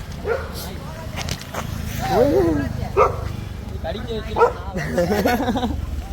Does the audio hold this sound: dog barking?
yes